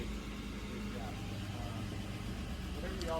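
A car engine idles steadily after its crankshaft position sensor is unplugged, a low even hum at moderate distance with faint higher tones near the end.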